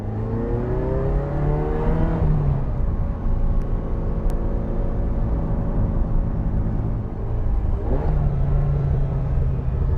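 A 1986 Ferrari 328 GTB engine heard from inside the cabin, a steady loud burbling drone with rising and falling pitch as the car shifts and accelerates, alone with no talk.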